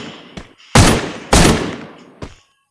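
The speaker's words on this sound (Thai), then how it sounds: "ในฝั่งมิกยิงมันครับทุกคน" Gunfire in the mobile game Free Fire: two loud, sharp shots close together, with a few fainter pops before and after and no talking over them.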